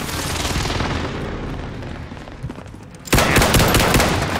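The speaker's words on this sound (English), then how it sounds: "Be advised, friendly Kazuma airstrike inbound." Call of Duty: Modern Warfare game audio with a continuous wash of gunfire and booming explosions from an airstrike, loud throughout and surging sharply louder near the end as a heavy blast hits.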